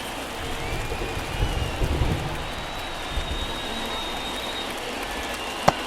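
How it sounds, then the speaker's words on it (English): Steady rain pours over a baseball stadium during a game in MLB The Show 24, a dense continuous hiss with a sharp thump near the end. "It feels like we might be headed towards a rain delay if the weather doesn't ease up, Chris."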